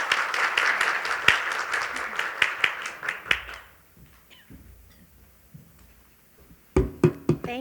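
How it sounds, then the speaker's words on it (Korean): An audience at a Santa Barbara wine master class applauds to welcome a speaker, with sharp individual claps over a crowd patter that fades out, then a few close sounds and a voice near the end. "박수로 환영을 해주십시오"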